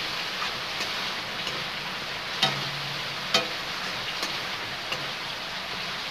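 Chicken curry with masala and whole garlic being stirred in a pan, a steady frying hiss broken by a few sharp spoon scrapes and taps.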